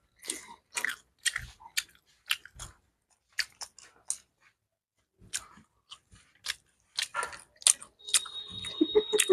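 Someone eats food mukbang style with no hands, giving close, crisp bites and chewing crunches in irregular bursts with quiet gaps between them.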